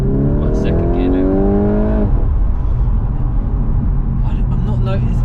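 A car accelerating in second gear, its engine note climbing steadily for a couple of seconds before easing into a lower, steady road drone, with a voice heard over it.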